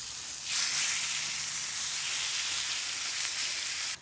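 Meat frying in a pan, a steady bright sizzle that swells loudly after a quiet start and holds evenly close up, with no talk over it.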